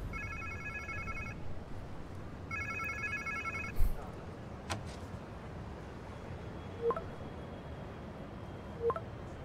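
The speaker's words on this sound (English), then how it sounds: "Sounds like somebody's phone." A telephone rings in a video game, two bursts of electronic trilling, each over a second long, that stand out against a low background hum, followed by a few faint clicks and thuds.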